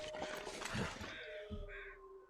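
Crows cawing in the survival video game The Long Dark, a few harsh calls over a steady wind-like ambient bed, moderately loud and fairly close.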